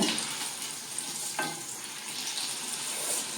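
Bajji frying in hot oil makes a steady, close bubbling sizzle throughout, with one brief clink partway through and no voices.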